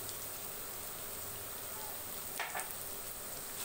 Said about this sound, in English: And fry them for 2 minutes till the raw smell goes off